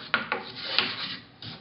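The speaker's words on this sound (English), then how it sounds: "we'll just take a little wire brush here and just get the worst of the sand out of there" A small wire brush scrubs sand off the metal walls of a casting flask in short, rasping strokes, four scratchy scrapes over under two seconds, close and moderately loud.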